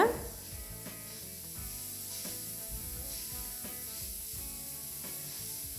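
Peanuts dry-roasting and being stirred continuously in a pan for chutney powder, a steady close rustling, scraping rattle with repeated soft scrapes of the spoon.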